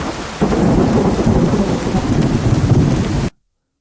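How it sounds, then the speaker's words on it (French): Heavy rain pours steadily as a dense wash of noise with deep thunder rumbling through it, loud and continuous before cutting off abruptly near the end. "C'était une averse lourde et grise qui transformait les bois à l'extérieur en un mur de brume."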